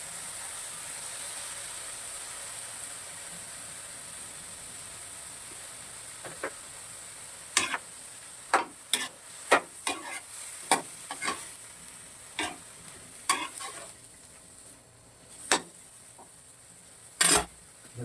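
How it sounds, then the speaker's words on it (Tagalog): Coconut milk being stirred into a simmering pot of kalamismis, a low steady sizzle with a run of sharp utensil knocks and scrapes against the pan scattered through the middle and end, close by with no talking. "Ihulog na natin ang ating gata."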